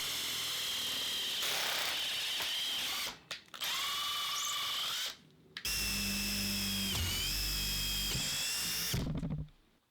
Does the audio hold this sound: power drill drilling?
yes